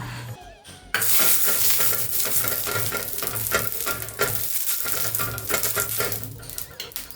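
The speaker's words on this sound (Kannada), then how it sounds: "ತವ ಚೆನ್ನಾಗಿ ಕಾದಿದೆ ಎಣ್ಣೆ ಹಚ್ಚಿಬಿಟ್ಟು ಹಿಟ್ಟನ್ನ ಹೊಯ್ಕೊಂಡೆ" Dosa batter made with Anganwadi nutrition powder hits an oiled hot tava and sizzles loudly and steadily up close, with occasional scraping and stirring clicks, no voices.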